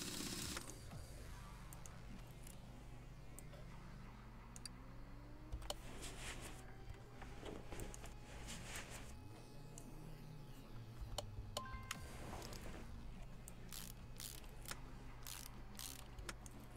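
Wheel bolts being screwed in one after another in Car Mechanic Simulator during a brake job, heard as a steady run of mechanical ratcheting clicks and creaks over a constant low hum, fairly quiet, with no talk.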